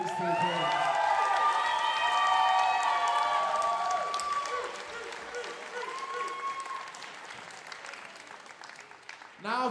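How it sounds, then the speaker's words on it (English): A crowd at a student MMA fight night applauds and cheers loudly, with shouts rising over dense clapping early on before the noise settles into thinner, lingering applause. "can we have one final massive round of applause for these two people?"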